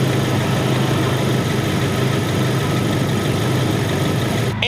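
A Jeep Wrangler engine idles steadily at close range, the mic held just above the radiator cap, giving a continuous, even rumble with a faint clunk right at the end.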